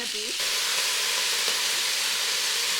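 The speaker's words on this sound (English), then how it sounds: "the stew was bubbling away on the cooktop" Ranch-raised beef, potatoes and leeks simmering in a big cast iron pot on a cooktop, a steady soft sizzling hiss with faint bubbling that runs continuously and quietly without a break.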